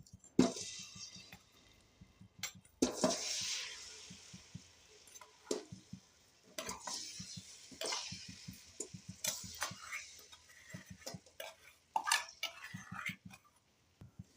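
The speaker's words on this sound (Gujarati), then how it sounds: "ગોળને હવે આપણે મેલ્ટ કરવાનો છે અને સતત હલાવતું રહેવાનું છે" Jaggery melting with two spoons of ghee in a kadai, stirred continuously for puffed-rice laddoos; intermittent metallic scrapes and clinks of the spoon against the pan, with soft bubbling sizzle between strokes in a quiet kitchen.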